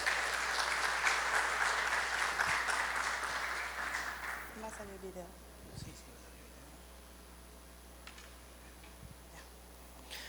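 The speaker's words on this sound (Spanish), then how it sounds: "Brindamos fuertes palmas a la licenciada" An audience at a hospital-related talk in Iquitos gives strong, dense applause for about four seconds, then it fades into a quiet room with a few scattered claps and soft murmurs.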